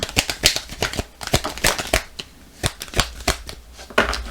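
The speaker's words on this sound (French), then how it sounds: "On va prendre juste 3 cartes de l'améthyste love" Oracle cards from an amethyst-themed love deck being shuffled and drawn, a rapid run of crisp riffling flicks and slaps, close and fairly loud, with no talking.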